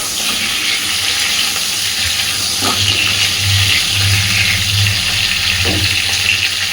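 Steady, dense sizzling of pointed gourd (potol) frying in hot oil, a constant crackling hiss with no voices.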